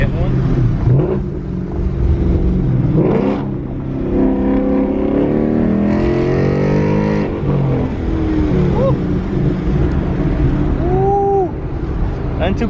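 A 2018 Ford Mustang GT with drag pack driving on the road, a steady engine drone with a brief rev, heard from inside the car while people talk over it.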